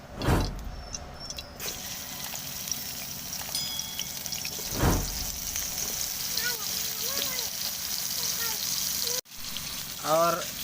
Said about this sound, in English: frying brinjal pieces